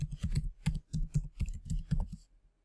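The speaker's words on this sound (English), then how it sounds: "I'm going to highlight it, and I'm going to type in skateboarding." Fingers typing on a computer keyboard, a quick uneven run of soft, close key clicks lasting about two seconds, quiet and with no talking.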